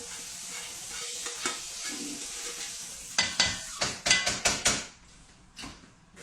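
A spoon scrapes hamburger gravy out of a pan: a soft sizzle at first, then a quick run of sharp metallic scrapes and taps, close and fairly loud, fading out at the end.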